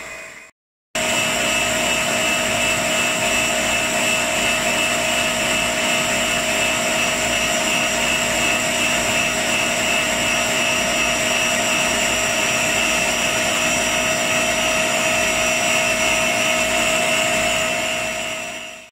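A blender whirs loudly and continuously at maximum power after a brief start, crushing passion fruit, a steady high-pitched motor whine holding for the whole stretch.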